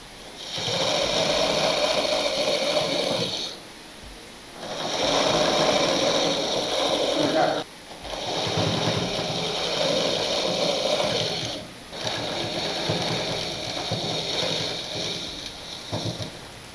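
An electric sewing machine stitches a machine cover in close, loud bursts of rapid whirring, with short pauses between runs of several seconds each.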